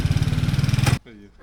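A Minsk motorcycle engine putters in a fast, even rhythm, loud and close, then cuts off abruptly, leaving a brief voice afterward.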